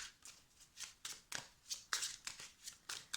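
A deck of tarot cards being shuffled by hand, with repeated soft riffling bursts every half second or so, close and fairly quiet, with no talking.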